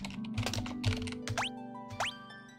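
Computer keyboard keys tapped in a quick run while characters are named in Final Fantasy 3 Pixel Remaster, the clicks close and steady, with short rising game menu chimes near the end.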